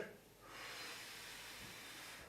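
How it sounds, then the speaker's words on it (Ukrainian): A single slow inhale through the nose during a lung-training breathing exercise, a soft close hiss of airflow that swells and holds in a quiet room. "Вдих через ніс і видих через рот."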